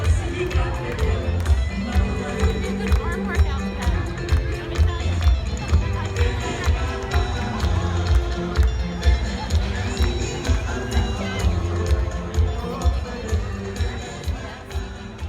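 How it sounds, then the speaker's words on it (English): A large crowd at the Women's March on Washington cheering and singing, a steady, busy outdoor din with rhythmic pulses, close and continuous, with voices talking throughout. "People are already cheering and singing."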